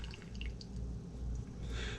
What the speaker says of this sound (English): I'm gonna pour my Cerakote in.